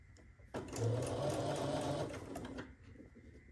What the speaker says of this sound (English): now let's sew the other side on